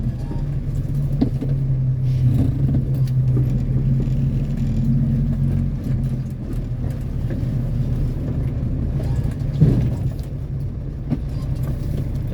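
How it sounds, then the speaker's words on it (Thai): A car engine idles and rumbles nearby as a vehicle reverses and maneuvers back and forth, with a brief rev near the end and faint voices in the background. "นี่ครับถอยเทถอยเทกันอยู่อย่างเงี้ยครับ"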